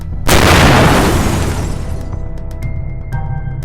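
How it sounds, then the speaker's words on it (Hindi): A loud, sudden blast of explosives in an airliner cockpit erupts and rumbles away over a couple of seconds, followed by faint scattered debris pops. "सलीम विमान के कॉकपिट में विस्फोटक पदार्थ लगाता है और उसे उड़ा देता है।"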